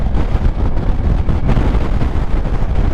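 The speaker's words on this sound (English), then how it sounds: "The wind is blowing me around everywhere." Strong wind, about 30 miles per hour, roars across the microphone of a moving Kymco AK 550 scooter, a steady loud rumbling buffet for the whole stretch with no talk.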